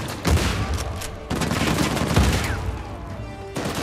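Gunfire from a weapon in the action video game Uncharted 4, loud repeated shots with several bursts in quick succession, no talking.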